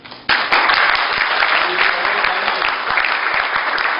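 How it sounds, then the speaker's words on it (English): Audience applause breaks out suddenly at a technical presentation and carries on as a dense, steady wash of clapping from many hands, loud and sustained, with no voices over it. "he deserves a really good round of applause"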